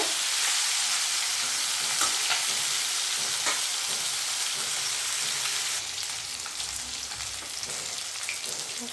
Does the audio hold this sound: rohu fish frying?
yes